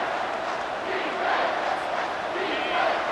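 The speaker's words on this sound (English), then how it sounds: "Here comes this home crowd as the defense tries to get off the field on 3rd down." Home crowd in a college football video game, Michigan vs. Wisconsin, roaring steadily as the defense tries to get off the field on third down, a dense continuous cheer with no talk over it.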